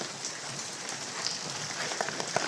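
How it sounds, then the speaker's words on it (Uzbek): Steady rain pours down around a house built from foam concrete blocks, a dense, continuous hiss with scattered heavier drops pattering on surfaces near by, alone without voices. "Hozir 2 minut 3 minut bo'ldi yomg'irni boshlaganiga."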